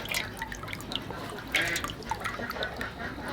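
Coconut water from a fresh green coconut trickles and drips into a bowl, a steady close liquid splashing with small bursts, no talk over it.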